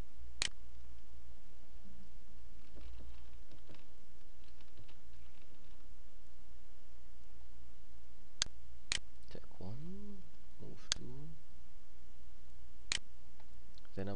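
Scattered keystrokes tap on a computer keyboard while entering text in an image editor, a few sparse, quiet clicks with short pauses between them, under a faint low hum.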